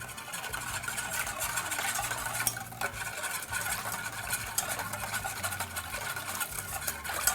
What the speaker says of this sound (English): Then 1/4 cup of cooking sherry wine, 1/2 cup of light brown sugar, and then I'm going to give this a whisk.